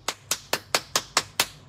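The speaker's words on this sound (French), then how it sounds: "Pour les applaudissements," Seven sharp hand claps in an even rhythm, close and loud, with no voices between them.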